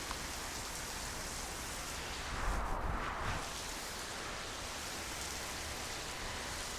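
Heavy rain pours down outdoors in Raleigh, North Carolina, a dense, steady hiss of rain on surfaces with a brief low rumble swelling midway, no voices.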